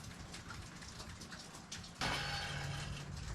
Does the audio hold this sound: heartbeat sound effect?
no